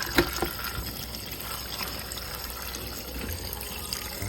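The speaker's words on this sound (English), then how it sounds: "So I'm gonna just wash them off now." Fresh fish are rinsed under running tap water before steaming with coconut, a steady low splashing trickle with a small clatter at the start.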